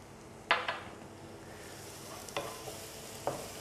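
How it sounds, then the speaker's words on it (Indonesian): Garlic sautéing in a pan, a faint, steady sizzle broken by a few sharp scrapes and clinks of stirring, close by with no talking. "Yap, layaknya menumis pada umumnya."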